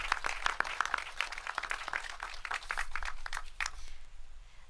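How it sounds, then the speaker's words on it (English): A crowd at a community safety event with the New York mayor claps in thanks for the NYPD. The hand claps are close and clearly separate, a lively patter that carries on steadily to the end. "Let's give the NYPD a round of applause for their work."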